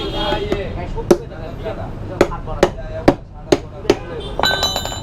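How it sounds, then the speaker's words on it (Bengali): Sharp repeated tapping as holes are punched into an empty plastic engine oil bottle, seven or eight distinct hits at an uneven pace, close and loud, with a voice talking underneath. "এই যে বোতলের মধ্যে এরকম ফুটো করে দিতে বলবেন ইঞ্জিন অয়েল ভরার পর।"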